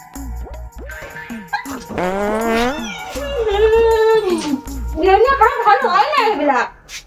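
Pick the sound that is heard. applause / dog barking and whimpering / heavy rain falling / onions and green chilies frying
dog barking and whimpering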